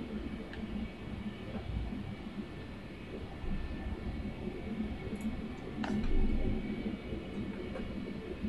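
A Concorde taxis in Flight Simulator X, its engines producing a steady, heavy low rumble that swells slightly toward the end.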